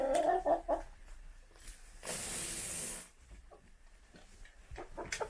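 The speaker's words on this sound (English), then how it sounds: "Hello, chickens. How was your night?" Backyard chickens in a coop, fed grain on a chilly morning, give a few soft clucks amid rustling, with a loud hissing burst in the middle.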